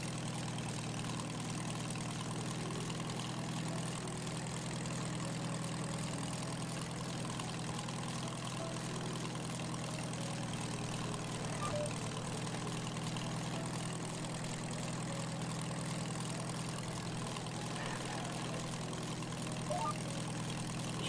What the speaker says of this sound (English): This is not a fast tractor.